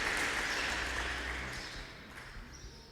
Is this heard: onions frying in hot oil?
no